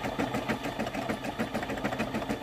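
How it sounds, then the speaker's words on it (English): A new embroidery sewing machine stitches the tail of a bunny design, giving off a steady, fast mechanical whir. It runs continuously at close range, with a busy rhythmic pulsing and no talk over it. "Now it's going to sew the tail."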